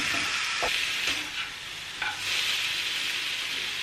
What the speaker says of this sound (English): So you just want to seal it all the way to make sure it's all browned.